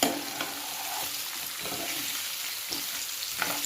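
Onions and green chillies frying with cashews in a pan: a low, even sizzle with a few faint stirring scrapes, close but fairly quiet and without talk.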